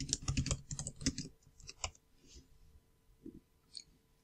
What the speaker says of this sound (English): I type in the book and then click search